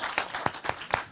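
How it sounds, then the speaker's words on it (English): An audience applauds a panel at a conference, with a few distinct claps heard briefly and softly over a second. "So give a big applause to the panel."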